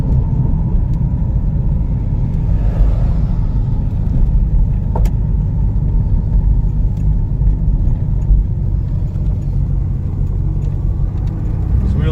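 A 1973 Mercury Cougar XR7 driving, with a steady low engine rumble and road noise that stays constant and close throughout, without speech.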